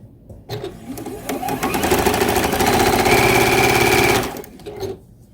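Sewing machine stitching quilt rows and a sashing row together for a Dutch Chocolate quilt, a steady close whirring run that speeds up for about four seconds and then stops.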